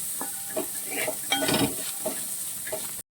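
Chicken and sautéed egg being stir-fried together in a pan for chicken fried rice, a close, even sizzle broken by several quick scraping strokes of the spatula.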